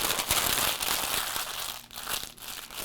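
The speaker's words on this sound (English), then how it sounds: "So I've got here a piece of parchment paper. I'm going to crumple it up." A sheet of parchment paper is crumpled by hand while lining a pie plate, giving a close, continuous crinkling and crackling that runs steadily for about three seconds with no talking.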